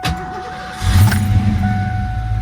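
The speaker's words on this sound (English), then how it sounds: "Let's give this baby a cold start." A 1990 Ford Mustang LX cold-starts after sitting overnight: a brief crank, then the engine catches and settles into a close, steady, rumbling idle.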